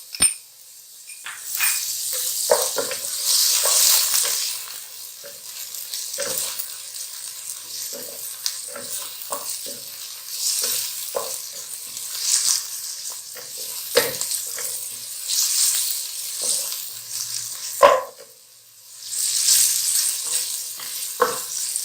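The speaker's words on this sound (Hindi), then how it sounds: "अब इसको लाइट गोल्डन हम फ्राई कर लेंगे" Small chicken pieces with ginger paste sizzle and crackle in hot oil as they fry to light golden. Frequent spoon scrapes and stirs break through the steady frying hiss.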